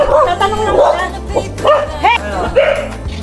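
A dog barks and yips repeatedly at a lakeside campsite during a camping trip, close and loud, mixed with people chatting over the barks.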